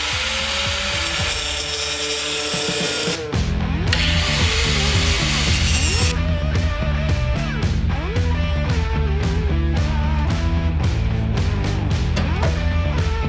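Power tool cutting sheet metal on a Chevy Cruze car body during a transfer case install, heard as a loud, continuous mechanical whir, followed by a rapid run of sharp ratcheting and grinding bursts.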